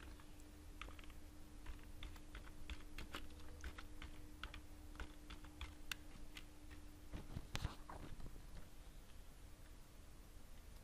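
Rapid keystrokes on a computer keyboard entering an account number, a quiet, close run of irregular clicks across the whole stretch with a low steady hum beneath and no talk.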